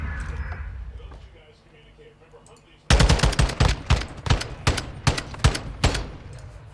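Gunfire in the Call of Duty MWII video game during a competitive match, quiet at first, then a sudden run of sharp, rapid shots in irregular bursts, loud and close.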